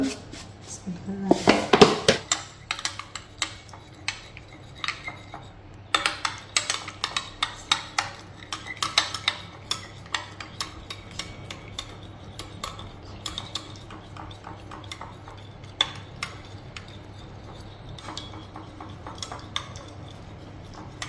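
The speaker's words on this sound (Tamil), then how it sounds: "முட்டையை வந்து நல்லா மிக்ஸ் பண்ணணும் ஷுகர் போட்டு" Eggs and sugar whisked in a bowl, a quick uneven clatter of utensil against the dish, loudest in a brisk burst early on and then lighter taps continuing under a voice and steady background hum.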